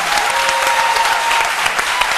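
A television studio audience applauds loudly and continuously, a dense, even wash of clapping from many people with no break.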